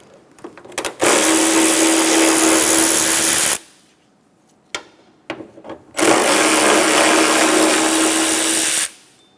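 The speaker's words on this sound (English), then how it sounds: "Using a 10mm socket, remove the 2 bolts." A power tool with a 10mm socket spins out hood support bolts on a 2003-2007 Honda Accord, two loud, sustained whirring bursts of about three seconds each, separated by a short quiet gap with small clicks.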